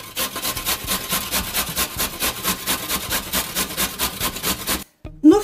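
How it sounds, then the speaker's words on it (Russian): An onion is rubbed back and forth over a coarse grater in quick, even scraping strokes, close up, about three per second, before stopping abruptly with a brief knock. "И на крупной терке нам нужно ее натереть."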